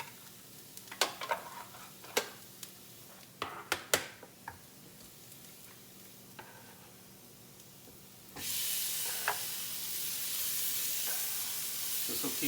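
Tomatoes tipped into a hot pan of onions for a tomato fondue, after a few light taps and clicks, set off a sudden, steady, loud sizzle that keeps hissing close by until the end, with no voices.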